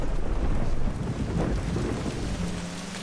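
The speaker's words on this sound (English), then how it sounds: "All the thunder." Thunderstorm in the video game Grimm, a deep continuous rumble of thunder over heavy, dense rain, loud and unbroken, with no voices.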